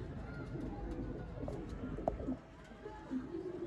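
Sialkoti breed pigeons at a loft, soft low cooing murmurs under steady background noise, with faint scattered chirps.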